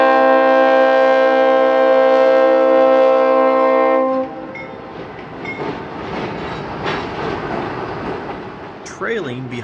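A GE B23-7 diesel locomotive on the Minnesota Commercial, built 1979 and formerly Conrail, passes in Roseville, Minnesota: a loud sustained horn blast for four seconds, then rumbling engine and rolling wheel noise close by.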